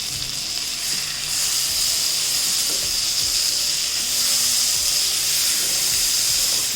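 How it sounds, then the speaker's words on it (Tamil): Prawn masala frying with onions in a pan, a steady, close sizzling hiss that continues evenly throughout. "இந்த மசாலாவும் இந்த வெங்காயத்து கூட சேர்ந்து நல்லா ஃப்ரை ஆகட்டு."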